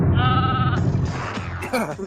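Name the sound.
goat bleating sound effect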